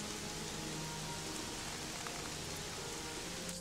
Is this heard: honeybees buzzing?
no